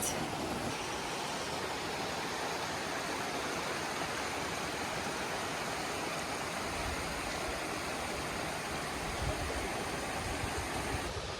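The waterfall in the Valley of Five Ponds in the Polish Tatras pours as a dense, steady roar of rushing water, constant and full for the whole stretch, with no voices.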